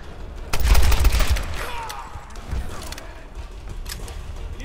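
Rapid machine gun fire in the 2013 Tomb Raider game, a loud dense burst of shots up front that thins into scattered bursts and mechanical clatter, with no talking.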